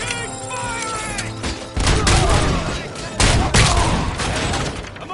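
Rapid gunfire bursts from the RoboCop: Rogue City video game, loud and close with heavy impacts and crashes layered through, while shouting voices cut in over the shooting.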